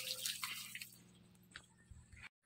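Water pours and splashes from the outlet of a small 12V DC pump powered by a motorcycle battery, a steady hissing gush with faint motor hum beneath. It cuts off abruptly near the end.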